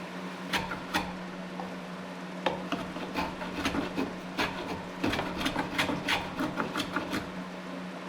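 A hand tool rasps along a wooden tool handle being shaped for a vintage adze, giving a run of dry, close scraping swipes in irregular bursts over a steady low hum.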